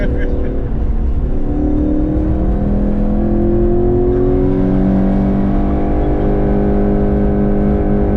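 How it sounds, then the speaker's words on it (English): Electric AE86 car whirring up and down as it is revved and rev-matched with heel-and-toe, a loud, steady motor tone rising and falling under people talking in the cabin. "I can't believe you can rev match. Like heel to toe."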